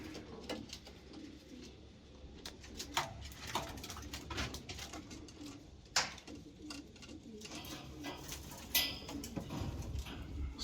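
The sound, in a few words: pigeon cooing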